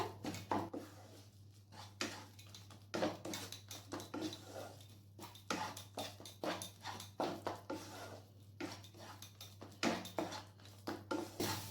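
Rajma masala being stirred with chilli powder and roasted kasuri methi in a cooking pot, giving repeated clattering scrapes and knocks of a spoon against metal in an irregular rhythm, close and moderately loud, with no talking.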